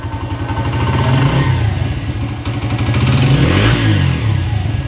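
A Honda XR100 motorcycle engine, restarted on the first kick after sitting unused for 17 years, runs loud and close with a steady, throbbing single-cylinder putter that rises and falls slightly in revs as it settles toward idle.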